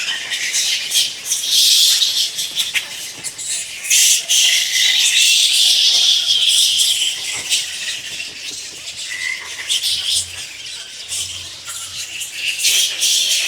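Thousands of bats fly and call inside a roost protected by villagers. A dense, continuous high-pitched chittering and squeaking fills the space, close and busy, with a faint low rumble beneath.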